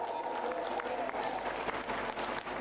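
Audience applause at a Jharkhand government event welcoming a minister, steady clapping with scattered sharp claps, heard under an announcer's voice.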